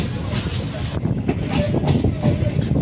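A passenger train runs on the rails near Anekal railway station, a continuous rumble with rhythmic clattering wheel knocks and a faint squeal, heard close from on board.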